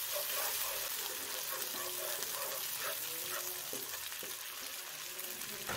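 Ginger, garlic and green chilli paste fries in a hot karahi for black pepper chicken, a dense steady sizzle close up with faint scrapes of stirring through it.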